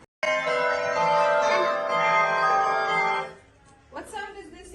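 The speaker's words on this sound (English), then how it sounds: "It's a bell." A loud outdoor bell rings in a sustained, rich metallic tone for about three seconds before decaying, followed by a voice speaking as part of a guess-the-sound game.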